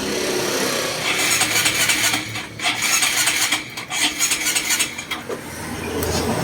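A Honda MSX motorcycle engine with a leaking exhaust valve cranks repeatedly in loud, rough, grinding bursts without catching, close by and continuous.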